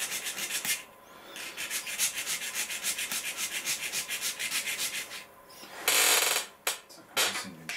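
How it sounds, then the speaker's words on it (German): Rapid back-and-forth rasping strokes scrape a small diorama model part with a hand rasp in steady rhythm, pausing briefly, then a few louder, harsher passes close to the microphone. "das Teil einfach abschleifen auf das gewünschte Maß"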